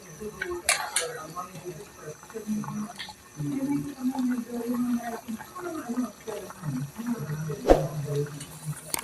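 A pot of papaitan soup boils with soft, irregular bubbling and occasional clinks, moderately close, while a person talks over it.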